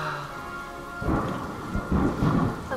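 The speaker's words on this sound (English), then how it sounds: "Okay, it's raining." Steady rain falls with deep rolls of thunder rumbling up partway through, loud and close, with no voices.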